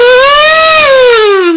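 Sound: comb harmonica imitating a siren

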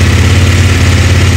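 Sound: CFMOTO 800NK motorcycle engine idling

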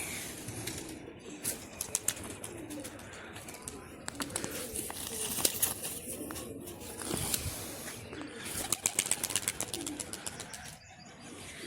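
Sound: released pigeons flapping wings and cooing

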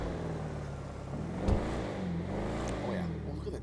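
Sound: Charger Hellcat engine revving after stage 4 upgrade, GTA 5 video game

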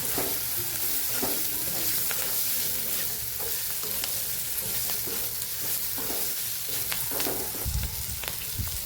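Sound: chillies frying and being stirred with coriander-cumin powder

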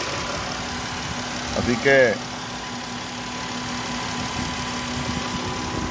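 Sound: car engine running during fuel pump bypass test

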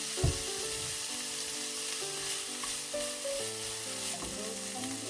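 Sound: stir-frying bracken fern in a pan

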